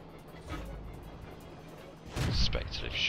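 Tank cannon fire in the video game World of Tanks, with an M8A1 tank: a low boom early on, then a louder crashing blast near the end, under quiet engine rumble.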